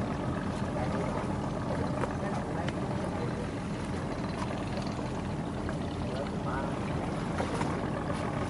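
A clam-dredging boat in the Mekong Delta of southern Vietnam motors away after hauling up its anchor, its engine a steady, dense low drone over water, with no clear change in level.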